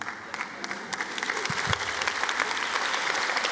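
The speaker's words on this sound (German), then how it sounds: "Beifall immer und gerne an jeder Stelle." An audience claps throughout a cathedral during a 20th-anniversary celebration, the sound building into sustained, dense applause that fills the space.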